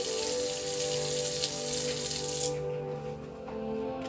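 A sink faucet pours water steadily during hand washing, a close splashing stream that suddenly drops away as the tap is shut off, leaving a faint trickle.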